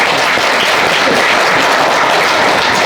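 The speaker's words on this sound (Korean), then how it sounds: "공보관님께 박수 한번 쳐주세요" Loud, dense applause from reporters at a Suwon city New Year press briefing, welcoming a newly appointed press officer; steady unbroken clapping fills the whole stretch with no voices over it.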